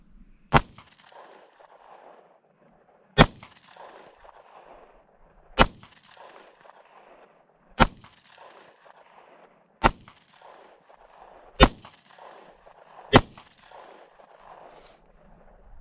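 Seven sharp, loud pistol shots from a Glock 43 fitted with a PSA Micro Dagger conversion, fired singly at a slow, fairly even pace roughly two seconds apart, each with a brief echoing tail and no talking.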